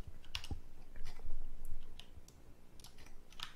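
A few sparse clicks from a computer keyboard while modelling in Maya, with single key taps spread across a quiet stretch and no talking.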